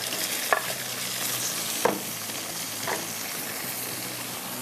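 Tomatoes added to onions frying in a pan, a steady broadband sizzle with a few brief stirring scrapes at intervals, close and fairly loud, no talking.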